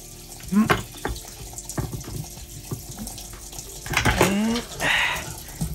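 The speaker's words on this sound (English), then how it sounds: "we're gonna take these spring onions and we're gonna wash them first." Spring onions washed under a running kitchen tap, water splashing steadily into a sink with brief handling clatter and a few louder gushes near the end, no speech.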